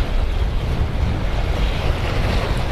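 Ocean surf at Miami Beach during fishing, a loud continuous wash of breaking waves with heavy wind buffeting the microphone and no voices.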